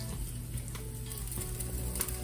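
Wild-foraged food sizzling and frying steadily in a pan, with faint scraping and clinks as pieces are flipped; no talking.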